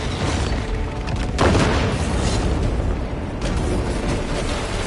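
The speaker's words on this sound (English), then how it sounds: "Throw your crack grenade." A crack grenade detonates in a Warhammer video game, a loud broadband boom bursting out about a second and a half in over continuous dense battle noise that fills the whole stretch.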